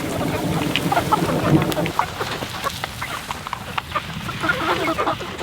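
Backyard chickens cluck and murmur at feeding time, a busy cluster of short calls close by over a steady outdoor background.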